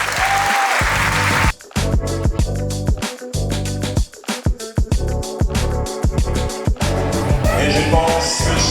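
An audience applauds at a convention signing ceremony between SODECI and INPHB, the clapping steady and full throughout with intermittent voices or tonal sounds cutting across it.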